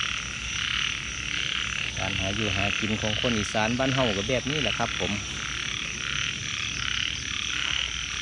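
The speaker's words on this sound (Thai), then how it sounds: "เสียงกบเสียงเขียด" Frogs croak in a rapid, pulsing chorus for a few seconds over a steady hiss of insects and rain, with someone speaking briefly nearby.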